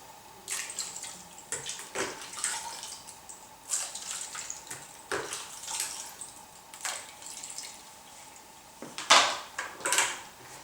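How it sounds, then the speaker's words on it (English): Homemade blackberry wine liquid is strained into a bowl, giving faint, intermittent trickling and splashing in irregular bursts, with soft handling knocks between pours and no talking. "I'm going to strain into this bowl the liquid, certainly most of it."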